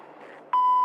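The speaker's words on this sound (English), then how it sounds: "Beep!" A single steady electronic beep starts about halfway through and holds loud and constant to the end, following a stretch of soft muffled background noise.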